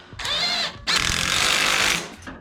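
A power tool whirs in two bursts, a short one and then a longer steady run, while tightening a V-band clamp on a twin-turbo LS Mustang exhaust, heard up close with no talking.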